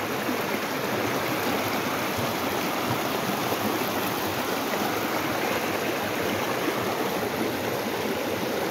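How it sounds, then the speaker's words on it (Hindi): Water rushes into Bhadkal Lake in Haryana, a loud continuous flowing roar with no breaks, heard near and alone without any talking. "ये कहाँ से पानी आ रहा है हम लोग को पता नहीं है, लेकिन पानी आ रहा है कहीं से"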